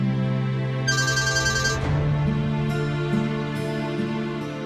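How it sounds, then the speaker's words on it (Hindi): A telephone ringtone plays a bright, steady electronic melody close by, with sustained tonal notes shifting in pitch over several seconds and no speech. "ये किसका फोन आ गया?"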